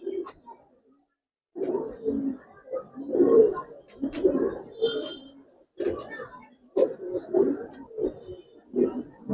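A Giribaz racer highflyer pigeon with special colouring coos close by in a run of repeated low, throaty bursts with short gaps between them.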